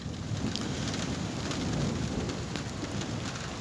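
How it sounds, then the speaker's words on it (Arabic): A thunderstorm pours steady, dense rain with a low rumble of thunder underneath, loud and constant throughout with no voices. "هناك يعني رعود وبرق والأمطار تتساقط"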